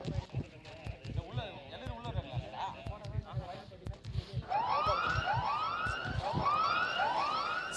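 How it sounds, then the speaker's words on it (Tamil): A siren rising and falling in repeated swoops at a local cricket match, heard over crowd noise with voices and thumping sounds throughout. "சைரன் சவுண்ட்ல எல்லாருக்கும் கனெக்ட் ஆயிருக்கு"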